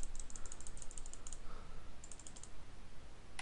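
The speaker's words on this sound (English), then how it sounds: "This is the sound of my mouse." Computer mouse being clicked near a desk microphone, a run of quick light clicks in bursts with a short pause midway, close and fairly quiet over steady background hiss.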